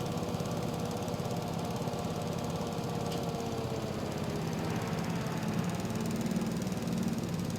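A riding lawn mower in the Xbox farming game Griffin Indiana drones steadily and loudly with a rough, continuous engine hum and no pauses or talk.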